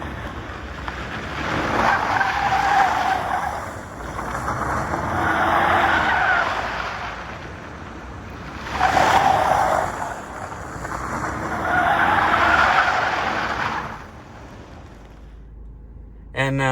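A BMW's tires squeal and scrub in long skidding bursts as the tail end slides out, with the engine rising and falling between slides and someone talking over it.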